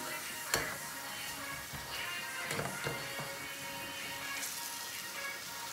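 Potatoes frying in hot oil in a pan, a steady soft sizzle with a few sharp clinks of a utensil as they are lifted out to drain.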